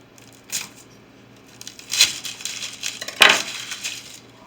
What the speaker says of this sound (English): I'm going to chop my onion.